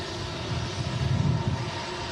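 At windy Manchester Airport, an airliner taxis clear of the runway with a steady, moderately distant engine drone and a faint rumbling swell midway.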